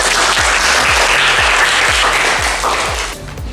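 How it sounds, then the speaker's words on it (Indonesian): A classroom full of people clapping steadily for a few seconds, dense and loud, then fading quickly at the end. "Kita beri tepuk tangan untuk kita semua."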